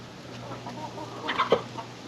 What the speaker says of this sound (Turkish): Tavuğu niye kovalıyorsun?